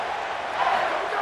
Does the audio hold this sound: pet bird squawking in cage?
no